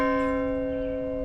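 A rededicated church bell rings at an interfaith service, one clear sustained stroke with a bright humming tone that hangs in the air and fades slowly, heard alone.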